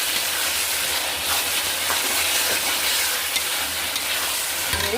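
Tomato sauce and chili sauce being stirred into soya chilli in a hot pan, with a steady broadband sizzle and scraping of the spoon running throughout at close range, with no voices.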